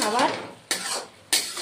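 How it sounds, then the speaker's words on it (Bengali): Spoon scraping and stirring bottle gourd curry with cumin, coriander and red chilli powder in a pan, three distinct strokes each with a sharp scrape that trails off, close and fairly loud with no talking. "নেড়ে চেড়ে নিচ্ছি"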